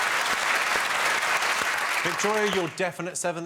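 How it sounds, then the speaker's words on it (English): Studio audience applause on a comedy word-game show rolls on for about two seconds, then thins out as a host begins speaking over the fading claps. "Oh, a begrudging round of applause."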